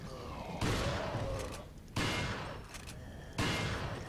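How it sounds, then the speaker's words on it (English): Three loud, close gunshot bursts from a shotgun in the video game Resident Evil 4, each sharp blast arriving about 1.4 seconds apart and trailing off in a noisy decay. "Oh, stop shooting him in the fucking head."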